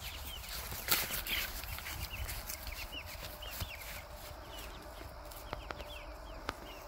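Chickens cluck and squawk in short, scattered bursts at a moderate distance, with a few sharp knocks and rustles in the background.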